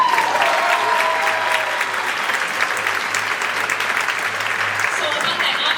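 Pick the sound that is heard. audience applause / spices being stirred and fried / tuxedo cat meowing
audience applause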